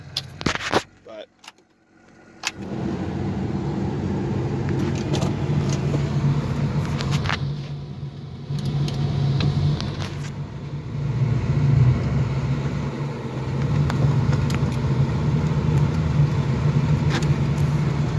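A truck with a lighter trailer hitched starts up after a few clicks and rattles, then settles into a steady, loud idle that runs on with slight swells, close by.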